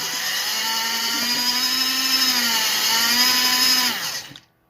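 An MN 99 1/12 scale 4WD RC crawler truck's electric motor whines at full throttle, a loud, steady, high-pitched drone that holds for about four seconds, then quickly winds down to silence.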